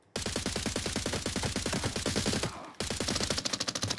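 Rapid automatic gunfire in a video game, sprayed into bushes, loud and continuous with a brief gap near the end before the burst resumes.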